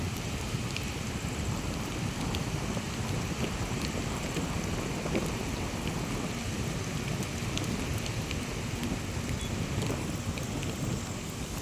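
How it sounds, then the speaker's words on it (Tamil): Heavy rain pours steadily throughout an outdoor fishing trip, a dense continuous hiss of drops with some wind buffeting the microphone, loud and close with no talking. "மழை திரும்ப வந்துச்சு"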